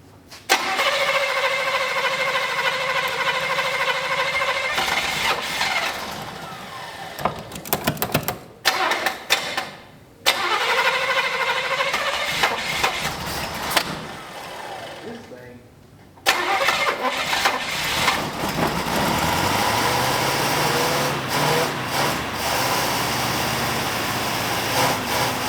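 A V8 Buick LeSabre that sat unused for 34 years cranks repeatedly, its starter whirring in long bursts with brief pauses while the engine struggles to start, and people talk over it.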